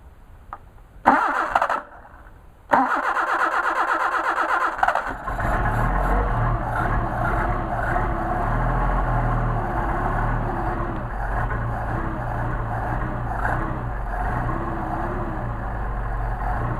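A car engine fitted with a Solex carburetor is started on the choke. After two short cranking bursts it catches and settles into a steady, loud, close idle that runs to the end.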